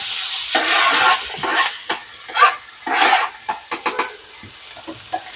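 Chopped onion hits hot oil in a pan with a bright, hissing sizzle, interrupted by scraping stirs and clinks of a utensil against the pan, close and loud.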